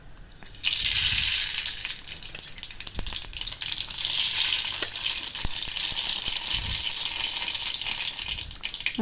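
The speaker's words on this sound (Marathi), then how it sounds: "मी आता फोडणीसाठी पहिली मोहरी टाकणार आहे" Mustard seeds drop into hot oil for tempering and sizzle with a steady hiss, sharp crackles and pops spattering through it, close and fairly loud.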